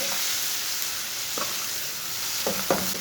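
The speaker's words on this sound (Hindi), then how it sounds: "प्याज को 3 मिनट तक पका लेंगे।" Chopped onion frying with cumin and coriander seeds in a pan while preparing stuffed bitter gourd, a constant bright hiss close by with a few soft spoon stirs near the end, no one talking.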